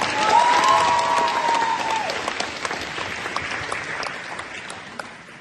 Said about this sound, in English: Please give a round of applause for our two amazing MCs and Zoe.